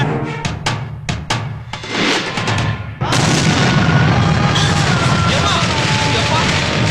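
Rapid string of sharp firecracker bangs in the first few seconds, followed by a dense, continuous crackling barrage with voices underneath.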